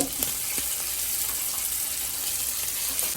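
Onions and dove meat frying in a hot pan over medium-high heat, a steady close sizzle with light crackle throughout and no voices.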